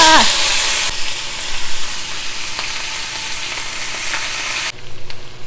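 Sambal hits a hot pan in Malaysian cooking with a loud burst of sizzling, then settles into a steady, close frying hiss and crackle that drops off abruptly near the end.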